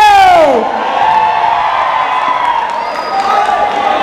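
A large crowd at an outdoor birthday celebration cheering and clapping for an actress, a dense, loud, sustained roar of voices and applause following a shouted voice at the start.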